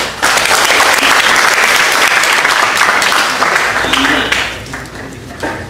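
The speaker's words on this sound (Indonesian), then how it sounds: "Terima kasih, hanya tepuk tangan" Loud, dense applause fills the room at a leadership forum, sustained clapping from a large audience that gradually thins toward the end while voices emerge.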